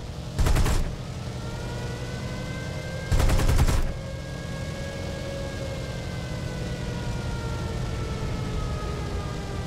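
Aircraft guns fire in two short, loud bursts while strafing landing craft and anti-aircraft guns on an airfield in the War Thunder video game, over a constant droning engine with rising and falling whining tones.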